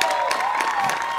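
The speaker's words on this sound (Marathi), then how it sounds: "एकदा जोरदार टाळ्या आपल्या सगळ्यांसाठी झाल्या पाहिजे" Theatre audience clapping and cheering loudly at the reopening of a drama hall, dense sustained applause mixed with shouts, close and filling the whole moment.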